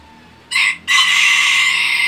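Polish chickens, a crested breed, crowing loudly up close with a short call followed by a longer sustained crow, clear and alone.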